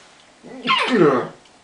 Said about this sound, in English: Sorry, I thought I'd sneeze.